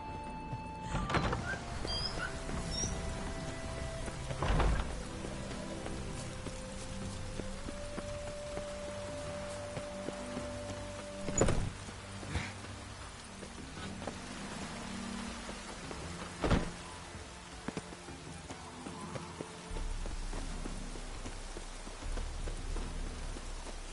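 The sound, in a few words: rain falling in a PS4 video game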